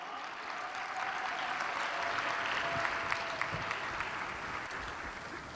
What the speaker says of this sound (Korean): 우리 다시 한번 박수로 우리 환영하며